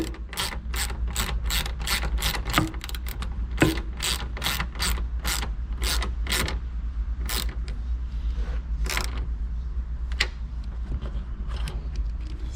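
A hand ratchet clicks in quick bursts of rapid pawl ticks, pausing between strokes, while snugging a tail lamp bolt on a Chevy Cruze. The sound is close and crisp over a low background hum.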